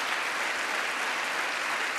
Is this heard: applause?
yes